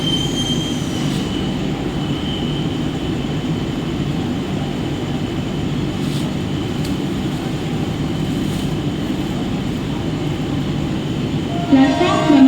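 A Mumbai AC slow local train rolls into a suburban railway station at night with a continuous loud rumble of wheels and carriages and faint squealing, and a sharper burst of noise rises near the end.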